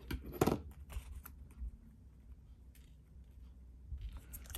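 Scissors snip paper for an art journal comic layout, one sharper cut near the start followed by softer, sparse snips and rustles, quiet and close.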